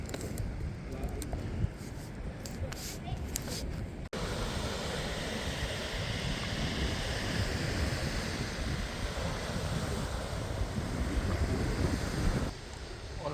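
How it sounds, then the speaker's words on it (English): Strong wind roaring steadily across a seaside beach on the East Anglian coast, a loud broadband rush with microphone buffeting that continues nearly unbroken throughout, a brief dropout around four seconds. "As you can see, it's a bit windy today."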